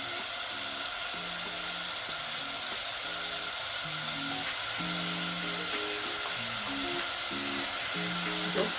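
Shrimp fry in a pan for spaghetti jambalaya, giving a steady, dense hiss of sizzling oil that runs evenly throughout, close and moderately loud, with no talk.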